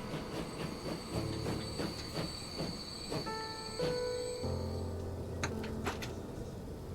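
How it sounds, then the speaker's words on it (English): A small old steam train runs through a station in the Transport Fever 2 game, with steady rail clatter, squealing wheels and sustained tonal whistle-like hums layered over continuous rolling noise, close and moderately loud throughout. "That is a beautiful old train."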